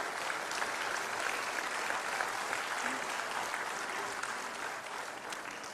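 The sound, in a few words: applause at graduation ceremony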